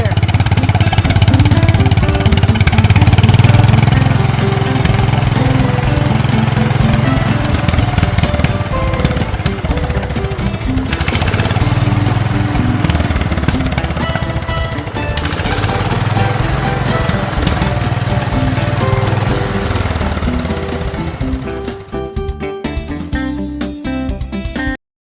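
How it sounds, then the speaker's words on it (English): A PistenBully snow groomer engine runs steadily, a loud continuous mid-pitched mechanical drone with a throbbing low rumble that holds for about twenty-five seconds before cutting off. "Ski piston bully snow tractor."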